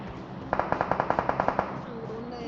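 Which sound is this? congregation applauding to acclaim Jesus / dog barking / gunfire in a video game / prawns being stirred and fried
gunfire in a video game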